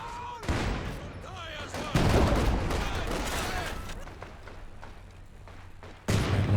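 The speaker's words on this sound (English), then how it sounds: "Launchers popping off a few shots" Rocket launchers firing in a Company of Heroes 2 battle, with scattered booms and distant rattling gunfire under a caster's commentary.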